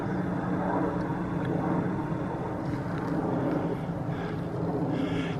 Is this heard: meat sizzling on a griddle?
no